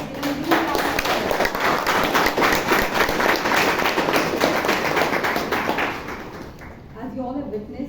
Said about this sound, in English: Let us give a huge round of applause.